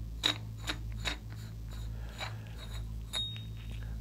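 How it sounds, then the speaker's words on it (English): A Rugged suppressor's rum mount being unthreaded by hand, giving close, soft metallic clicks and scrapes in an irregular run over a low steady hum. "You're then just gonna grab it by hand and unthread your rum mount."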